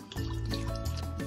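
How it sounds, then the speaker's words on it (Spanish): Water pouring into a cooking pot for Basque leek soup with carrot, squash and potato, a steady continuous fill close by that lasts the whole moment, alone without talk. "Entonces, echamos aquí agua."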